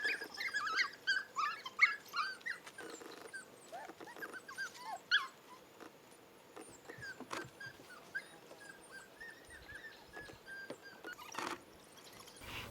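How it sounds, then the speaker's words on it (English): African painted dog pups whimper and yip in quick, high, squeaky bursts near their den outdoors, fairly faint and at a moderate distance, busiest in the first few seconds and then more scattered. "all the pups came out of the den and were playing around right at the entrance there"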